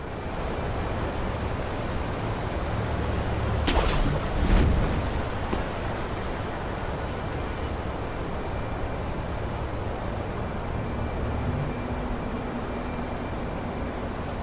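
A waterfall in the video game Sekiro rushes as a steady, broad roar of falling water with a brief louder swell partway through. There is no talking.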